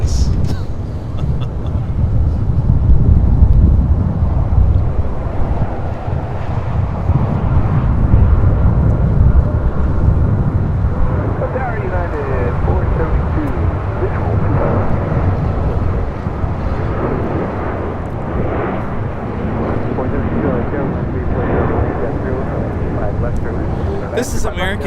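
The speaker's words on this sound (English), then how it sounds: "This is American Airlines 2608 taking off to Chicago O'Hare on the 737-800" An American Airlines Boeing 737-800 takes off from LAX, its deep jet roar rumbling loudly and steadily as it heads out, with voices talking over the engine noise.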